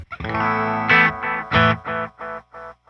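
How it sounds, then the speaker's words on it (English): Electric guitar notes and chords drenched in echoing delay and reverb, each strum ringing out and repeating as it fades. "So first let's check out the reverb and delay."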